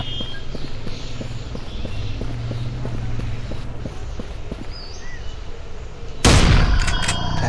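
A single sharp gunshot from a dinosaur hunting safari game on Android bursts out loud near the end, after a stretch of steady ambient jungle noise with faint rhythmic steps.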